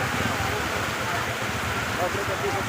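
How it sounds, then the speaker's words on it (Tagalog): Heavy rain pours over an open vegetable wholesale market in a dense, constant hiss with no break. A voice speaks faintly beneath it. "Nababasa yung cellphone natin at malakas ang ulan."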